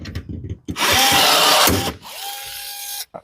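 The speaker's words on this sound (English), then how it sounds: "I'm going to drill a hole right through the front" Power drill boring a hole through a wooden support on a duck boat gun tray, a loud close whirring burst of about a second, a brief pause, then a second steadier drilling run.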